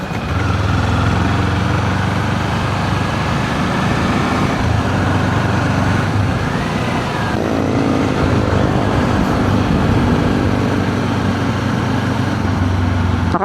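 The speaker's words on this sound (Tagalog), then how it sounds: "Traffic." Steady, loud road traffic and engine rumble surround a rider on a Kawasaki Z400 motorcycle during a ride on the Marilaque highway, a continuous wash of passing vehicles throughout.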